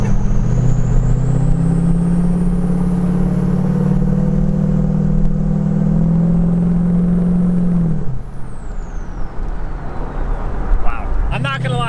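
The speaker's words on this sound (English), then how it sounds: "Sunroof open, windows down, and that sound. The turbo's cooling." Duramax diesel truck engine idles with a steady low drone and a high turbo whistle that climbs slowly, then winds down in pitch as the engine cuts off, followed by brief clatter.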